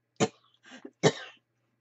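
A woman coughs at close range in a quiet room: two sharp coughs separated by a softer throat-clearing rasp.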